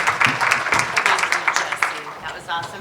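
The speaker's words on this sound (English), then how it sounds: "let's give them a round of applause, please" An audience at a United Nations event applauding, a brisk burst of many hands clapping, close and lively, tapering slightly toward the end.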